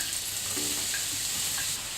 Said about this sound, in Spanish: Ponemos a calentar un poco de aceite y empezaremos por rehogar la cebolla.